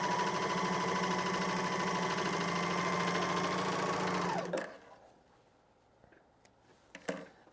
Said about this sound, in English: serger or overlock machine